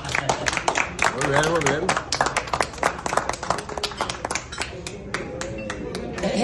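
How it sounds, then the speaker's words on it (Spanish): Audience clapping at a medical graduates' reunion event, a burst of many hands applauding with sharp scattered claps, while someone speaks over it and voices call out. "Un aplauso, por favor"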